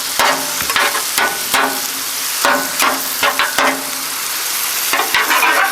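Cheesesteak meat, onions and baby bella mushrooms sizzle loudly on a griddle while a spatula chops through them in repeated sharp metallic strikes, close up and with no talk.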